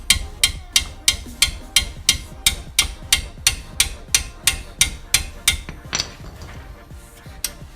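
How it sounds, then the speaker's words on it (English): A hammer strikes a brake caliper bracket on a 2006 Toyota Highlander Hybrid about twenty times in a steady, quick rhythm, each blow sharp, close and ringing. "See if I can bump her loose with the hammer."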